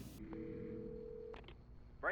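In the video game Alan Wake Remastered, a telephone handset gives a steady tone followed by a couple of short dial beeps, ending with a burst of voice.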